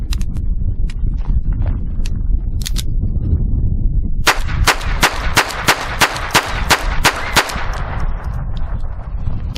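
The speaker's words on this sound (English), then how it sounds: "I'm going to fire a total of 30 rounds of CCI, so let's start on my next 10 rounds" A Phoenix Arms HP22A .22 pistol fires CCI rounds outdoors. Sharp, loud cracks come a few at a time, then a rapid string of about ten evenly spaced shots over steady background noise.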